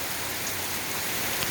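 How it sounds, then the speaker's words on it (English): Heavy rain pours steadily during a street flood outside a house, a dense, even hiss with close drops spattering on surfaces, with no voices. "This is the second time I've never seen rain like this before."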